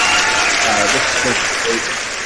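Canned applause effect played on a wrestling-history podcast, a dense, steady wash of clapping that runs the whole clip and tapers slightly at the end, with a voice speaking faintly beneath it.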